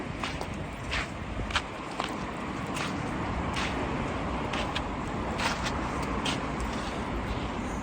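Old vehicle engine being started again, a steady coarse mechanical roar that fills the background with sporadic sharp ticks and taps, fairly close and continuous.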